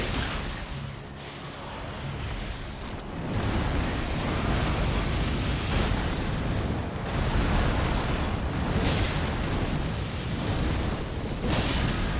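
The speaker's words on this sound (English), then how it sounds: "Explosion, yep." An explosion in the video game Elden Ring, set in a sewer level, booms and rumbles as a broad, noisy blast that swells and lingers, with further surging bursts following, loud and without talk.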